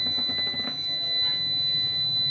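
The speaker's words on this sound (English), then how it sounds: "I need to install some tape for this beep sound because this is very hard sound" A VM III 5kW inverter in fault mode sounds a loud, sustained high-pitched electronic beep alarm. The tone holds steady over some low handling noise close by.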